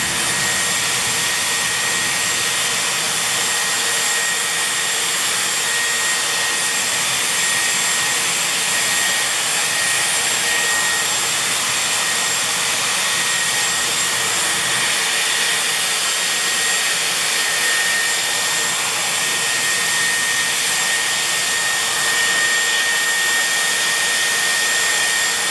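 A Dyson Airwrap styler runs steadily on its cold setting while drying curly hair, giving a loud, constant airy whoosh with a high whine that holds unbroken throughout.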